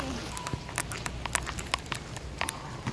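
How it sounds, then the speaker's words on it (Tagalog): Rain patters on an umbrella held by someone walking outdoors, a steady scatter of light taps with occasional sharper drops close overhead. "Guys, nag-uulan. Umuulan."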